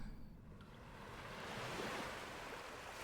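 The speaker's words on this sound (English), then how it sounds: "I think I can hear the waves." Ocean waves in a video game, a soft surf wash that swells and holds steady, faint and distant, with no speech.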